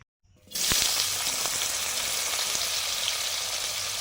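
Potatoes dropped into hot oil burst into a loud sizzle after a brief quiet moment, settling into a steady, close frying hiss with faint crackles that continues to the end.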